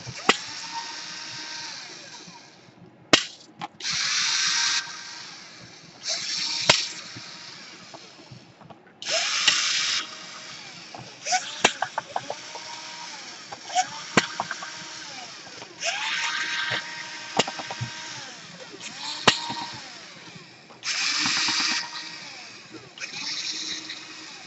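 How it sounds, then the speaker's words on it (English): A power screwdriver whirs in repeated short bursts while removing screws from the bottom of an Acer Aspire M5 laptop during a power jack repair, with clicks and handling noises between bursts and quiet speech underneath. "So we unscrew everything on the bottom."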